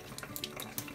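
A kitchen tap runs steadily for a cat drinking from it, a close, continuous splashing trickle with small bright spatters and no voices.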